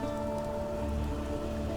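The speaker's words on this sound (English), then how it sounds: "I think that the rain effects are definitely nicer as well." Steady rain effects from the Path of Exile video game, a continuous dense patter of drops hitting the ground, even and fairly quiet throughout with no talking.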